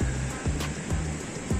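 Water flows at a rocky forest spring with a steady, close rushing wash and faint rhythmic pulses running through it.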